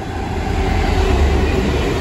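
A GBRF freight train bound from Slade Green to Doncaster Works passes at Bexley, a loud, close, continuous rumble and roar of wheels and wagons with no voices.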